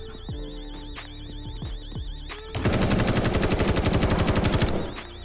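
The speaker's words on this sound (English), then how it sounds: "you just wasted an entire clip of your AK on one single zombie" An AK rifle on full auto fired at a single zombie in the game The Day Before: a long, rapid, evenly spaced burst of loud shots over a wavering alarm tone, preceded by a few scattered single shots.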